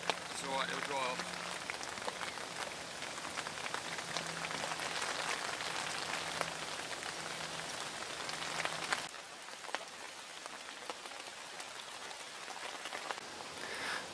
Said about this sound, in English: the wind's blowing into his bivvy along with the rain.